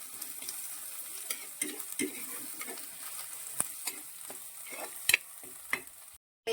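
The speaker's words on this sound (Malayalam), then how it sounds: "ഇതൊന്ന് നന്നായിട്ട് വഴണ്ട് വരട്ടെ." Curry masala with tamarind sizzles in a pan as a spoon stirs it, giving soft scraping strokes over a steady frying hiss, close and alone.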